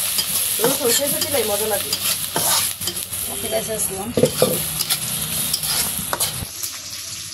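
Spices and pangas fish frying in a pan for a taro-leaf dish, a steady loud sizzle with repeated scraping stirs close up, and a brief voice speaking over it.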